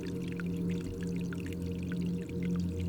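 Water drips and trickles inside a cave, falling as scattered small splashes over a steady low droning hum that runs throughout.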